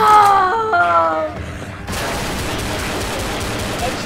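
Pistol fire in Left 4 Dead rattles in a dense, noisy stretch after a brief tonal passage with wailing sounds at the start.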